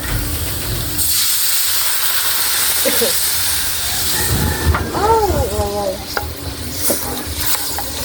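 Coconut milk being added to a pan with onions for ginataang sardinas, simmering and sizzling steadily with stirring scrapes, while someone talks and rising chirpy tones come through partway.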